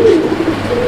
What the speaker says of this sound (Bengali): এটা হচ্ছে নর, ডাকাডাকি করে প্রচুর পরিমাণে